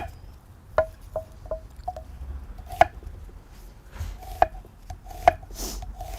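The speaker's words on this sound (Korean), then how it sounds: "양파는 이렇게 채를 썰어 주시고요." A knife slices an onion into thin strips on a cutting board, sharp close chops landing in an irregular rhythm of about a dozen strokes, with quieter rubbing between cuts.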